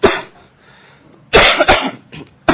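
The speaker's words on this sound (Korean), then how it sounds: "감기는 거의 다 났는데 기침이 자꾸 나갖고" A teacher coughing during a chemistry lecture on chemical equilibrium while recovering from a cold, one loud close cough followed by a burst of two or three more harsh coughs.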